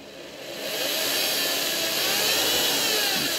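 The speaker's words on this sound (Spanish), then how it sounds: "con mucha calma, vas a hacer un agujero en el centro" Power drill with a bit boring a hole in the center of a piece during a homemade TV antenna build, a steady close whirring drone that rises in the first half second and then holds loud.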